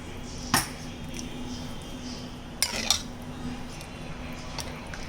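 A spoon scrapes and clinks against a pan while a chicken stew seasoned with garam masala is stirred, giving a few sharp metallic knocks over a low, steady background simmer.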